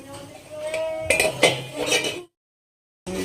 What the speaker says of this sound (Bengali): এবারে চাপা ঢাকা দিয়ে দেবো